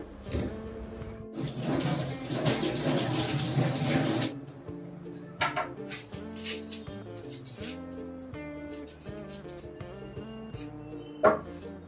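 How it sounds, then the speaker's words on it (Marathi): Tap water runs in a steady broadband wash for about four seconds as cabbage is rinsed at a kitchen sink, then gives way to quieter clinks and handling noises, with background music throughout. "हा कोबी मी सर्वात आधी तर धुवून कट करून घेते"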